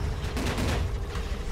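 Rapid, dense gunfire from the first-person shooter Tower of Guns, a continuous loud barrage with explosive bursts running throughout, no voice over it.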